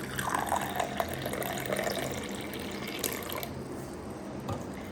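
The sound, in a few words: pouring lukewarm water into apple cider vinegar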